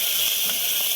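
Chopped onions frying on high flame in hot oil with four cardamom pods and cinnamon, a steady broadband sizzling hiss that stays loud and even the whole time.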